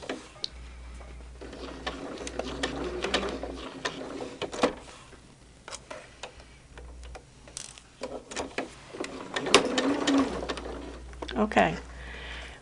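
A sewing machine stitches through a quilt with a steady mechanical whir and rapid ticking, running in several bursts separated by brief pauses and handling noises, close and moderately loud.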